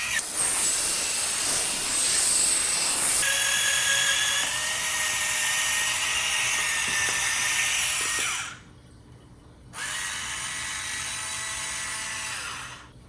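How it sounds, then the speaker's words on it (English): A non-rechargeable electric can opener runs steadily through a can with a loud, continuous whirring motor drone, briefly dropping to near silence before the motor starts up again for a few more seconds. "let's try out this one over here that's not rechargeable. So I'll just press the button to start it"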